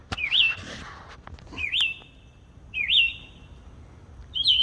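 A small bird chirps outdoors in the morning, four separate bright high calls spaced about a second apart, fairly close, with faint clicks and background noise between them.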